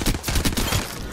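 Hemlok rifle from a video game firing on full auto, a dense rapid burst of close, loud shots with a steady rhythm throughout.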